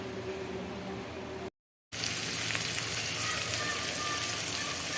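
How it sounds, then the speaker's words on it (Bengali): Onion and shrimp sizzle steadily in a frying pan, a dense hiss of frying that cuts out for a moment, then resumes loud and continuous. "পালং শাক রান্না করার জন্য এখানে পেঁয়াজ আর চিংড়ি মাছটা একটু ভাজাভুজি করে নিচ্ছি"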